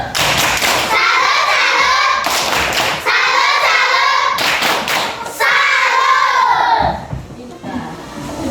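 A group of Indonesian primary school children chant the tepuk salut together in unison, punctuated by loud rhythmic bursts of clapping, with a short pause before the last round.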